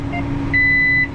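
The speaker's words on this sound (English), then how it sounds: "you can stop beeping" A steady electronic beep tone from farm seeding equipment sounds twice, a short chirp followed by a longer sustained beep, over a low engine hum.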